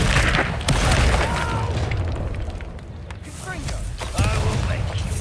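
The Confringo blasting spell explodes in a wizarding video game, a loud booming blast with rumbling debris amid other spell effects, with voices shouting over the din.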